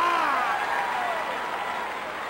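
A video game wrestling crowd in WWF Attitude on PS1 roars and applauds in a steady, dense wash of cheering throughout a wrestling match, loud and continuous with no break.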